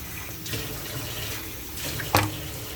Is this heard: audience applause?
no